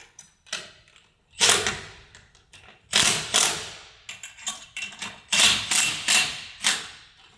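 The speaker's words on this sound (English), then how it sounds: "You put your screws through, nuts on, washers, and tighten them up." Screws and nuts with washers being tightened on a folding clothesline arm bracket, with a series of close, crisp ratcheting clicks and metallic rattles in short bursts separated by brief pauses.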